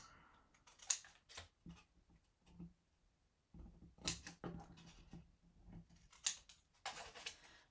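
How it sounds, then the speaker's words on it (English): Scissors snip a small tab in a piece of paper: a few quiet, scattered crisp cuts and clicks separated by short pauses, close and faint. "I'm just going to cut a little tab right there"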